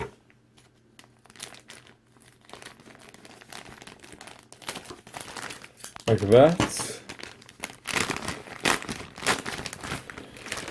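Plastic wrapping on a White Dwarf magazine issue crinkles and rustles in bursts as it is handled and pulled open, with a brief remark from a nearby voice.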